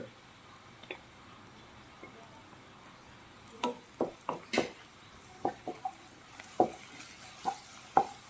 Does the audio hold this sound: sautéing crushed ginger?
yes